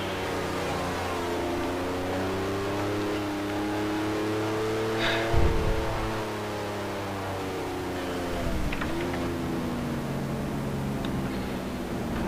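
A 1965 Grand Prix racing car in a Grand Prix Legends race rolls into the pits, its engine droning steadily with a harmonic whine that dips and rises as it slows and revs, close and continuous without talk.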